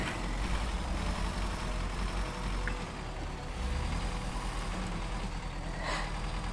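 Tatra heavy truck in the off-road video game Expeditions, a steady, dense engine drone rumbling continuously throughout with no talk.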